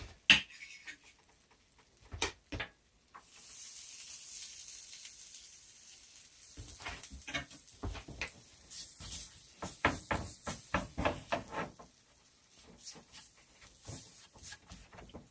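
Chopped garlic hits a hot pan and crackles while pizza is being cooked. A steady sizzle builds, then a close run of sharp pops and spatters, some loud and clustered, keeps going to the end.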